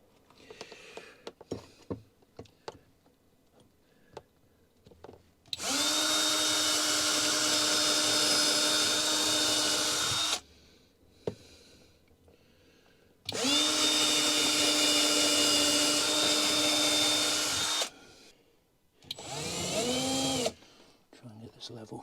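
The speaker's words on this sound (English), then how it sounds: "let's drill the pilot holes through here" A power drill drilling pilot holes while fitting a Lagun swivel table runs in three bursts, two long steady whines and a shorter one, with clicks and handling noise between them.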